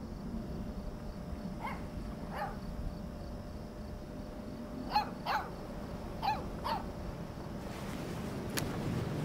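A puppy barking in Life is Strange 2: several short, fairly distant barks spaced irregularly over a steady windy outdoor background, with no talking.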